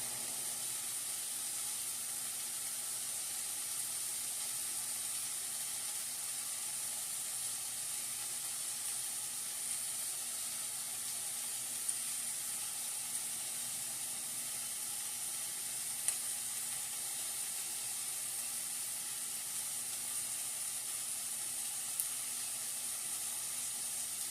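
Lean turkey Salisbury steak sizzling in a pan, giving a steady, faint hiss and crackle with occasional small pops throughout.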